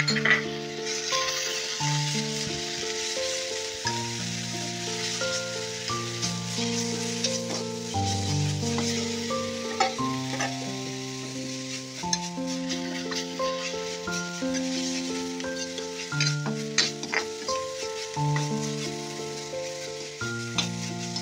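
Onions fry with browned garlic and ginger in a pan for a macaroni dish, a steady sizzle with occasional stirring running under louder background music.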